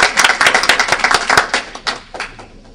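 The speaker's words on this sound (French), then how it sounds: "on applaudit." A small audience at a political gathering claps in a quick burst, sharp hand claps close and loud at first, then thinning and fading out.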